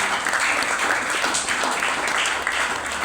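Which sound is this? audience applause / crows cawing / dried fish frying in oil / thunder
audience applause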